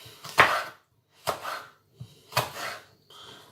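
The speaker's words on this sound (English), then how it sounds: "And then we'll cut up this red pepper." A knife slicing a red pepper into thin strips on a cutting board, giving four distinct crisp chopping strokes at a steady, unhurried pace, close and clear with no talking.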